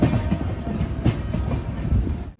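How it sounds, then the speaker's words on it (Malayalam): The Gujarat Mail from Mumbai's Dadar rolls into Ahmedabad Junction, its wheels beating a loud, close, rhythmic clickety-clack over rail joints, heard from inside a sleeper class coach. "ട്രെയിൻ ഇത് അഹമ്മദാബാദ് ജംഗ്ഷൻ സ്റ്റേഷനിലേക്ക് എത്തിക്കൊണ്ടിരിക്കുകയാണ്"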